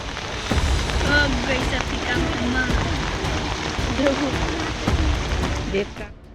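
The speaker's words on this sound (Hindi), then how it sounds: "पानी का बहाव कितना तेज है, इसकी गवाही शरीर से टकराती धार दे रही है।" Fast floodwater roars through a rain-swollen drain in Balaghat, Madhya Pradesh, pushing hard against people wading across; a loud, steady wash of rushing water runs throughout, with faint voices underneath.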